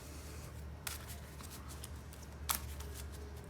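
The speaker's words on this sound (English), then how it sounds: "Let's go ahead and get a shuffle." A deck of Yu-Gi-Oh trading cards being shuffled by hand, with soft riffling bursts and two sharper snaps as the cards settle, close and fairly quiet against a low background hum.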